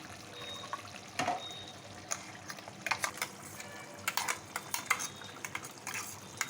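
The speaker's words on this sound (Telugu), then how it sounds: "కొబ్బరి కాజు 2 మిక్సీ వేసుకున్న పేస్ట్ వేస్తున్నాను" Coconut-cashew paste being stirred into a pot of mutton curry: a spoon scrapes and clinks against the vessel in irregular strokes over a soft background hiss.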